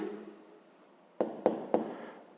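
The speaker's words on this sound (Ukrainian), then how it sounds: "Пишемо відповідь." A pen writes an answer by hand for a fifth-grade maths exercise, making a soft scratch followed by three quick, crisp strokes close by in a quiet room.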